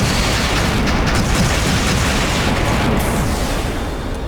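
Missile explosions in the Trails in the Sky SC video game, a sustained roaring wall of booms and blasts, loud and continuous throughout.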